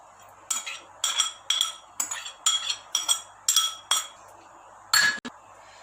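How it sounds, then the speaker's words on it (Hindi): Chicken pieces being mixed in a bowl with ginger garlic paste, tandoori masala and yogurt, giving a run of about nine sharp clinking strikes of a utensil against the bowl in a fairly steady rhythm, close and clear, with no talking. "इन सब चीज़ों को हम अच्छी तरह से मिक्स कर लेंगे।"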